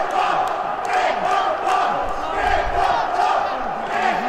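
A wrestling crowd at a Scott Steiner versus Jeremy Prophet match cheers and roars continuously, a dense, loud, sustained wall of voices with rallying shouts throughout.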